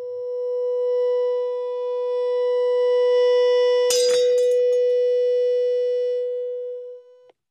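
A loud, steady pure tone tuned to a drinking glass's resonant frequency drones for several seconds, with a brief burst of rattling noise midway, then cuts off.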